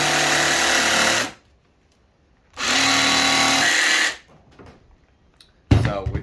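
Jigsaw cutting an MDF board in two loud bursts of buzzing blade noise about a second and a half each, separated by quiet, ending with a short clatter, close up.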